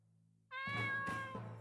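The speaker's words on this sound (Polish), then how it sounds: "Kotek, kotek, miauczuś, biały kotek" A white cat in the Eragon video game gives a single clear, drawn-out meow after a quiet start, close and prominent, with no talk over it.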